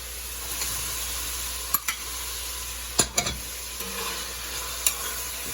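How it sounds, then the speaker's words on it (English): Fresh okra sautéing in a pan for a seafood stew, a continuous close sizzle broken by a few sharp stirring clacks and scrapes of a utensil against the pan. "Just basically you're sauteing this. Add your fresh okra."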